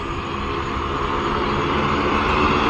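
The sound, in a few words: airplane getting ready to take off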